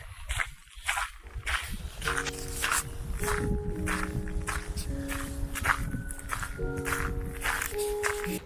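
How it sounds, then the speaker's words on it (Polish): Footsteps crunching on snow, picked up by the built-in microphone of a DJI Osmo Pocket camera, with a steady run of close steps that continues for several seconds at a fairly even level. "te odgłosy chodzenia, kroków w sensie. Zwłaszcza to na śniegu było słychać"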